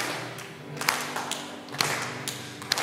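A few sharp hand claps sound in a room, spaced irregularly over steady background noise, fairly faint and close.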